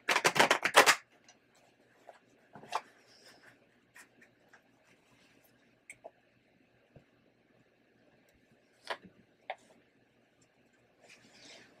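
Tarot cards are shuffled in a fast, close, papery riffle at the start. Sparse light taps and card flicks follow, with quiet gaps between them.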